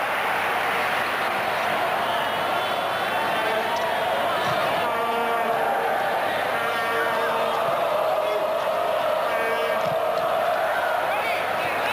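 A largely Spanish crowd roars steadily at a 1996 championship football semifinal between Ukraine and Spain, filling the whole stretch with a dense, distant wash of cheering. A commentator's voice runs over it.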